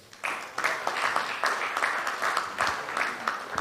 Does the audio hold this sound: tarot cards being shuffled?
no